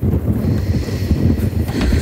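Strong mountain wind on Denali roars and buffets the microphone in a continuous, loud, rumbling gust with no letup.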